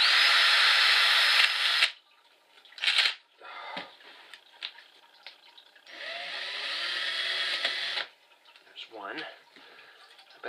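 An electric drill bores rivet holes in a homemade airsoft/paintball mask, running in two loud, sustained bursts of about two seconds each, with shorter handling clatter and small taps between them.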